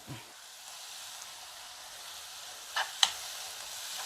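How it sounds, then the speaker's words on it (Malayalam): Garlic, salt and curry leaves sautéing in a pan, a faint steady sizzle running throughout, with a couple of brief sharper crackles near the end. "ഇതിനി നന്നായിട്ടൊന്ന് വഴന്ന് വരട്ടെ"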